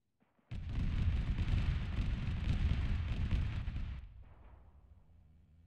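A heavy strike from a military video game erupts in a dense, rumbling mix of gunfire and explosion, roaring for roughly three and a half seconds before trailing off into a fading echo.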